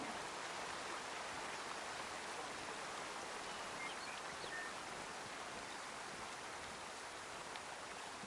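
A steady hiss of flowing creek water from the game Way of the Hunter runs evenly at moderate level, a constant wash of rushing water with no speech.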